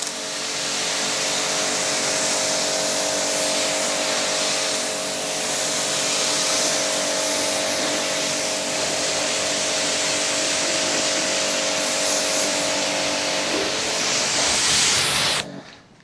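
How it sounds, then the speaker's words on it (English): Water from a pressure sprayer hisses steadily across a car's paintwork, rinsing off thick snow foam in a continuous close spray with a faint tonal whine underneath, ending abruptly near the end. "I'm just going to quickly show you how easy it is to rinse"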